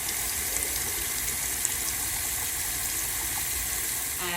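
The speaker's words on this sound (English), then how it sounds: "Turn the water on, run the water down through the mouthpiece." Tap water runs steadily through a brass instrument mouthpiece held under a sink faucet, a continuous close rushing splash with no talking, ending in a brief change in the flow.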